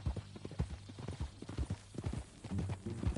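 Horse hooves clip-clopping in Red Dead Redemption 2, a steady uneven rhythm of close, sharp hoofbeats at a walk, heard alone.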